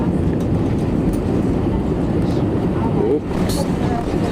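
Lufthansa Airbus A321 touching down late on the runway at Budapest airport, a loud, steady low roar of engines and rolling that fills the whole stretch, with a brief dip near the end and a voice speaking over it.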